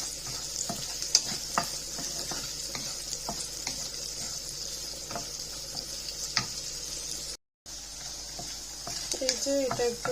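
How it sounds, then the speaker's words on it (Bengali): Garlic and onion fry in a pan as a tempering for mustard greens, giving a steady, close sizzle broken by scattered clicks of stirring, with a brief louder scrape near the end. "এই যে এটা একটু ভাজা ভাজা হয়ে এসছে"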